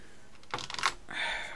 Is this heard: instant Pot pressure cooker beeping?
no